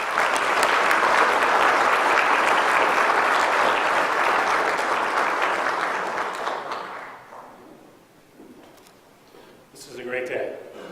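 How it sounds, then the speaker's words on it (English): Loud, dense audience applause at a city government all-hands meeting fills the first seven seconds, then thins out and fades, with a voice starting to speak near the end. "give him a warm round of applause"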